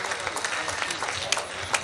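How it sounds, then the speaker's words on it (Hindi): An audience at a Hindi comedy poetry gathering applauding, a brief burst of dense clapping with crowd noise, fairly loud and close. "जोरदार तालियां बजा दीजिए अंदाज हाड़ोती।"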